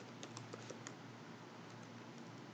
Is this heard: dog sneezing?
no